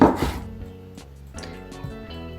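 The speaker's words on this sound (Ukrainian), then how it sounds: "Тепер мені потрібен один апельсин, його потрібно обчистити від шкірки. Розріжу його навпіл" A kitchen knife slices a peeled orange in half on a cutting board, one sharp cut at the start followed by a few softer taps and knife contacts, close and clear with no talking.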